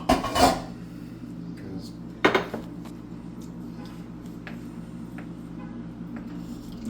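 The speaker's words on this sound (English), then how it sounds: "I'm going to cut the eggs" A knife cuts through boiled eggs on a plate or board, giving two sharp clinks followed by faint taps and scrapes, quiet and close with little talk.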